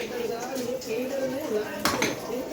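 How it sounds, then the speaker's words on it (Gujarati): Dishes being washed clink and knock softly under a person talking, with one sharper clatter of crockery near the end. "તું વાસણ ધોવે છે"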